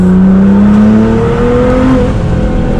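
A Nissan GT-R in race mode at full throttle through a turn, a loud, steady engine roar with a rising tone heard from inside the car, with no talking.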